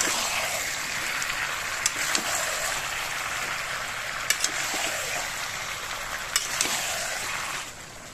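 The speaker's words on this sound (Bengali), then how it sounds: "আলু পেঁপে আর মাংসটাকে ভালো করে 2 মিনিট ধরে আমি নেড়ে চেড়ে কষাবো।" Potato, papaya and chicken being stir-fried in a pan, a steady loud sizzle with scattered spatula scrapes and clinks throughout, easing off at the very end.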